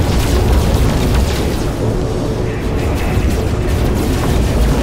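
Space battle in No Man's Sky with spaceship weapons and explosions: a loud, continuous roar of booms and blasts with rapid bursts of fire layered over a heavy low rumble.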